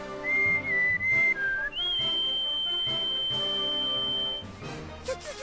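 Whistling in the Suikoden video game: clear held whistled notes that shift pitch, then one long sustained tone, heard over background game music without speech.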